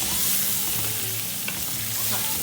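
Beef browns in olive oil in a pot on a low stove, giving a steady, close crackling sizzle with a few small pops and stirring scrapes.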